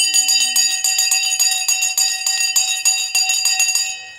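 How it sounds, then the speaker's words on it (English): A bell is struck rapidly and repeatedly for about four seconds to mark the market open on a live stock market stream. The strokes are loud, close and ringing with a bright metallic tone and no talk over them. "The bell has now gone."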